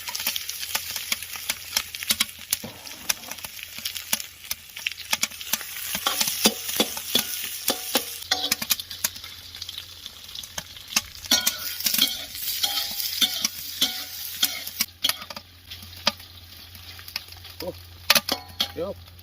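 Sheep tail fat crackles and sizzles steadily in a hot pan outdoors, with scattered pops and occasional stirring scrapes, close up and continuous.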